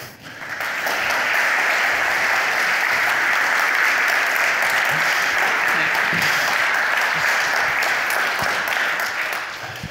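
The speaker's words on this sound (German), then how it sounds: "Einen herzlichen Applaus" Warm, sustained applause from an audience at an award ceremony in Solothurn, a dense wash of clapping that swells in within the first second and holds steady at full strength for the rest.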